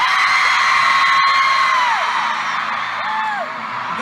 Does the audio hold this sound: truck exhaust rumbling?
no